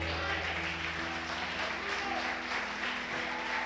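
A church congregation claps together in sustained, dense applause throughout, with no pauses.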